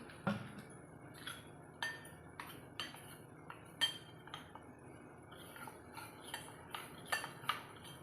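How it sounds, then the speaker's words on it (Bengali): A spoon clinks against a bowl or glass while two spoonfuls of cornflour are stirred into a little water, giving light, irregular taps and scrapes at close range, alone and fairly quiet. "কর্নফ্লাওয়ার তো আমি এটাতে একটু জল দিয়ে এটাকে গুলে নেবো"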